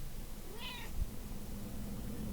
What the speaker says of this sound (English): That's my cat, if you're wondering what that noise is.